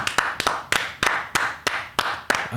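One person claps hands in a steady rhythm to mimic a spanking, about eight sharp, close, evenly spaced smacks with no talking between them.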